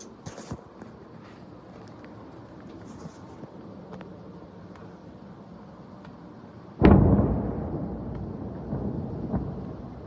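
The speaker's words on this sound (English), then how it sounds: "also heard a massive explosion in this video" Drone strike on an oil refinery sets off a distant explosion: a quiet rumbling backdrop with faint clicks suddenly breaks into a loud, deep boom that rolls and rumbles for several seconds.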